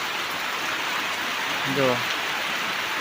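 Steady rain falls on an open farm field where harvested pearl millet lies in piles, a continuous broad hiss of drops throughout, with someone speaking briefly partway through.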